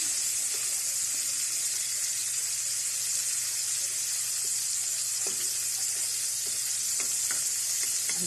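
Onions and tomatoes sizzle steadily in a frying pan for adobong kangkong, with a constant hiss broken by a few faint scraping stirs; no one talks.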